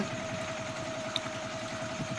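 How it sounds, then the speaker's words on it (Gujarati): A mini tractor engine runs steadily while sowing a dry field, a continuous low rumbling throb with a thin whine above it, moderately close and unbroken, with no talk. "મિની ટ્રેક્ટરથી વાવણી આપણી ચાલુ થઈ ગઈ છે"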